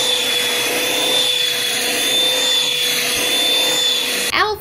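A vacuum cleaner drones steadily at close range with a constant whine, then cuts off abruptly near the end.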